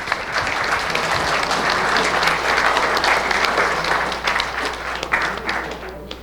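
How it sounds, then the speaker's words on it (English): An audience applauds the doctors after a talk on adult vaccines, steady loud clapping from a crowd filling the room and holding for several seconds before easing slightly near the end. "Big round of applause for the doctors."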